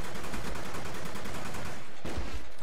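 Rapid automatic gunfire from Call of Duty Black Ops on the Wii rattles in a steady burst of closely spaced shots for about two seconds, a brief pause, then a few more shots.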